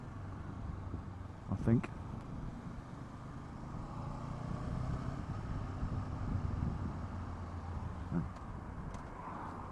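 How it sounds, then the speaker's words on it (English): A 2016 Honda CB500X motorcycle pulls steadily in third gear at about 30 mph in town, its engine drone continuous under wind rush, with someone talking briefly over it. "So I'm in third gear here"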